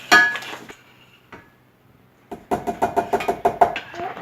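A spoon stirs pureed plum sauce in a pot over low heat: a few scattered knocks, a quiet gap, then a quick run of about ten rhythmic clinks against the pot.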